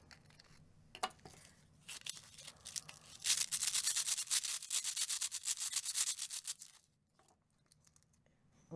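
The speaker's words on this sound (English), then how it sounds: "So I'm going to take a couple more seeds and rub it again." Small seeds rubbed between the fingers during winter sowing, a close, dry friction that swells into a dense, rapid rustling run before fading, with brief quieter scratching at the start and end.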